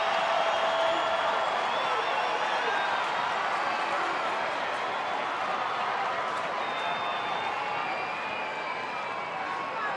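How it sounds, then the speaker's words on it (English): Broad, constant roar of a crowd of over 30,000 at a night baseball game, a dense wash of cheering and voices that holds steady from start to finish, with scattered whoops rising out of it. "Crowd starting to make some noise now."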